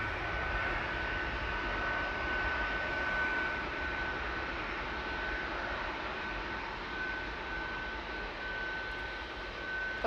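A Boeing 737 MAX 8 departing Manchester Airport sends a steady, broad jet engine roar, sustained and even from start to finish at moderate distance with no talk.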